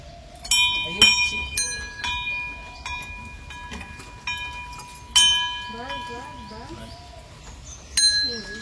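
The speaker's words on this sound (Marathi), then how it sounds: "किती घंटा वाजवतोय" Bright metal bell rung at a village goddess temple during worship, several sharp strikes with long ringing decay, heard under people talking and chanting nearby.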